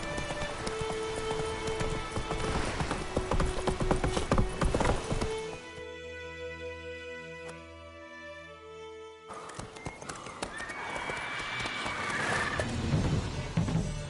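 Roach the horse from The Witcher 3 clip-clops at a gallop across a rainy landscape, hooves drumming steadily and loudly alongside rain and game sounds, with a brief quieter stretch midway before the galloping returns.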